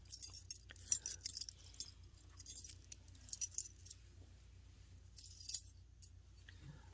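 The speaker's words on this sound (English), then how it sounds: "you just play with them and hear the beautiful clinking sounds." Small hard stones clinking and tapping against each other in bright, irregular clusters, close and fairly quiet, with brief pauses between handfuls.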